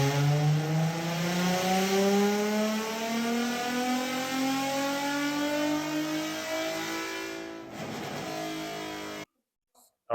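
A nitrous-equipped Nissan 350z drift car revs hard on a dyno, its engine note climbing steadily in a long, loud pull before cutting off abruptly into silence.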